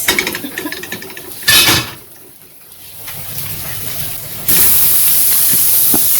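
Pieces of Jamaican cowtail (oxtail) sizzle as they brown in a very hot oiled pot: a steady close hiss with a sharp flare partway through, a brief lull, then a louder, sustained sizzle to the end, with no talking.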